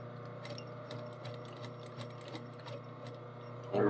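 A sewing machine stitches down a waistband with a steady mechanical hum and an even rhythm of soft clicks from the needle, quiet and close, with a brief louder burst at the very end.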